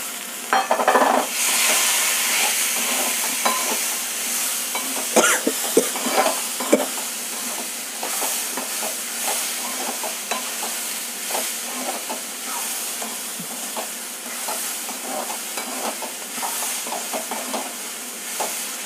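Salted karamani sundal (black-eyed peas) being stirred in a pan, with a steady soft scraping and light sizzle throughout, punctuated by a few sharper clicks of the spoon, no talking.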